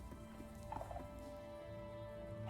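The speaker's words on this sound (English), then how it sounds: "You got a chicken in here?" In a video game, a fowl makes short clucking and gobbling calls over a steady humming game soundscape with a faint low drone.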